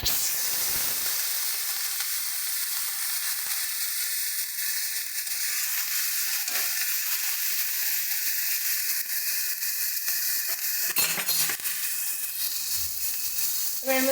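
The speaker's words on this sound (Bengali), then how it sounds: "এবার এই পটল ভাজার তেলটার মধ্যেই আমরা পেঁয়াজ বাটা দিয়ে দিচ্ছি" Onion paste sizzles in hot oil left over from frying pointed gourd, a loud, steady, close frying hiss with brief stirring scrapes and a sharper burst near the end.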